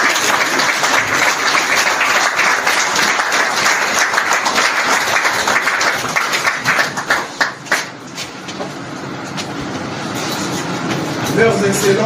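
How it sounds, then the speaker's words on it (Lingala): Sustained crowd applause at a formal government ceremony, a dense wash of clapping that thins out partway through, with voices and a loudspeaker audible beneath it. "Avec vos applaudissements."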